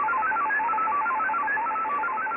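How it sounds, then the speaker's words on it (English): JT6m digital radio mode signal: a rapid stream of high, whistling multi-tone shifts like fast piccolo notes, steady and continuous over a band-limited hiss. "The mode itself sounds rather like piccolo music being played quickly, and not dissimilar to MFSK."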